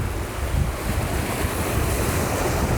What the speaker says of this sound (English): These are ocean waves.